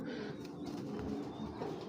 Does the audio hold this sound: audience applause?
no